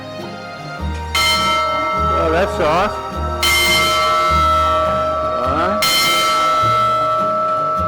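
A large bell rings out several times on a trip through Canada and Alaska, each strike a bright sustained clang decaying over a low hum, with people talking briefly between strokes.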